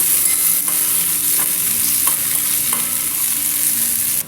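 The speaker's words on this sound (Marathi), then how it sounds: "आता आपण चिरलेला कांदा घालून घेऊया याच्यात कांदा एकदम फ्राय होऊ द्यायचा आता" Chopped onion sizzles steadily in a hot pan for an Olya Turichya dane bhaji, a broad hiss with a few faint stirring clicks scattered through, close and continuous with no voices.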